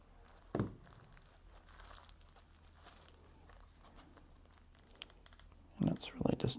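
White diaper flap material is folded over a glued seam on a handmade swim diaper, giving soft close crinkling and rustling with a couple of sharper crackles near the start and end.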